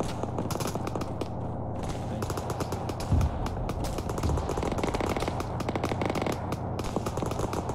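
Dense, continuous gunfire in the military game Arma 3, rapid overlapping rifle and machine-gun bursts crackling near and far without a break.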